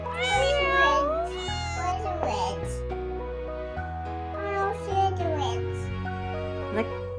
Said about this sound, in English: a kitty cat. Meow. Meow.